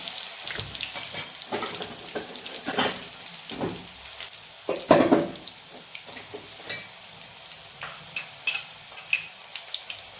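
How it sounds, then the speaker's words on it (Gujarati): Garlic paste hits hot oil with a crackling sizzle, followed by continuous frying and spattering, with scraping stirs punctuating the sound. "અહીં આપણે લસણની પેસ્ટ ઉમેરી દઈશું"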